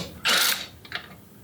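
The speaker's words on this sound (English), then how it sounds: "now I'm gonna take out these two bolts here. And again, this is 9/16 in this case. Try to do it with a socket and a wrench." A socket and wrench turn a 9/16 bolt on a garage door spring. A short, close burst of rapid ratcheting clicks is followed by a few fainter clicks.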